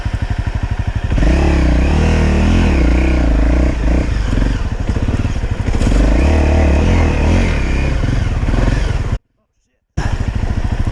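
Dual sport motorcycle revving hard while climbing a steep trail hill, a loud, close, sputtering engine with clattering and thumps, and voices talking over it before a brief dropout.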